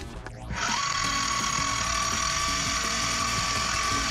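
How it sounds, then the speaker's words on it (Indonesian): A power drill spins up after a brief moment and runs steadily with a high, grinding whine, close by, drilling a hole for a bolt. "Ini kita baut, kita bor."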